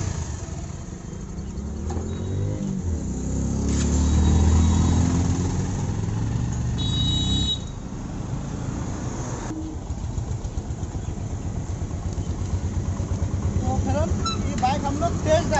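A Bajaj Pulsar motorcycle runs on a short test ride after new ball racers were fitted in the handlebar, its engine droning and swelling in loudness over a rumbling background, with light road and wind noise.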